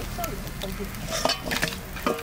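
Koi fish fry in hot oil in a pan, a close sizzling hiss broken by scraping stirs and light clinks of a utensil as the pieces are lifted out, with a faint voice in the background.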